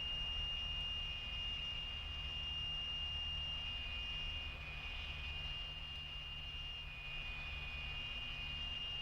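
A de Havilland Mosquito's aircraft engine drones in flight within a flight simulator game, a steady, continuous hum with a high whine layered on top, running evenly with no break.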